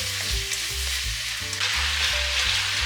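Pasta noodles and sauce stir-fried in a hot pan, a loud continuous sizzle with rhythmic tossing and scraping, no voices.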